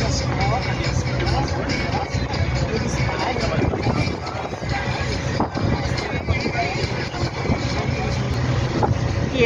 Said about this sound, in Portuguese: E ali vem vindo então mais um dos barcos de turismo lindos